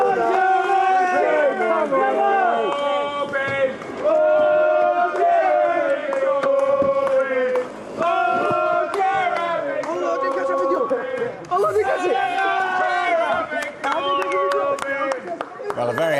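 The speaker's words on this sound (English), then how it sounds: "a very happy crowd in Islington there" A happy crowd gathered outside Jeremy Corbyn's home in Islington cheers and chants, with raised voices, shouts and scattered clapping throughout.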